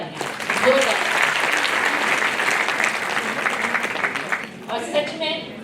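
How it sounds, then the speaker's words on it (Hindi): Loud audience applause at a recognition ceremony in Jamshedpur, a dense sustained crowd clapping that swells and holds, then gives way to a speaking voice near the end. "तो इस सिस्टम के लिए मैं चाहूंगी जोरदार तालियां, जोरदार"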